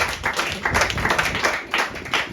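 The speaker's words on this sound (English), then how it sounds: "So round of applause for this table." A comedy club crowd claps for one table, a short burst of close, loud applause that swells and dips in waves over a couple of seconds.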